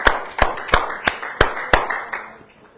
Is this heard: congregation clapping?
yes